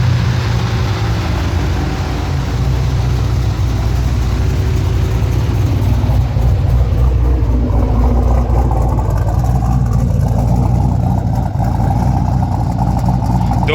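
A twin-turbo 416 LSX V8 in a 2010 Camaro SS idles with a lumpy 232/242 cam, Win 76 65mm turbos and 3-inch MagnaFlow exhaust, a loud, steady, deep rumble held throughout.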